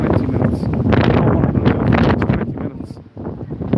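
Strong wind gusts outdoors in freezing cold weather, a loud continuous roar buffeting the microphone for the whole stretch, with a brief dip near the end before the rush picks up again.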